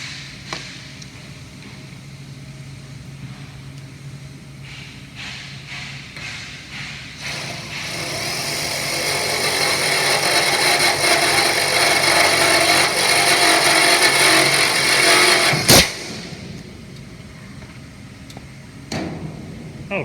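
A power drill whines steadily for several seconds, building in intensity as it drives a screw into a door, then cuts off abruptly, with a few clicks and taps before and after.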